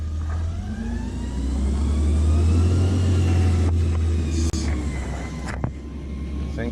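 A garbage compacting truck's engine rumbles nearby, a deep steady drone that swells and holds for several seconds, with a brief clank partway through and faint background sounds.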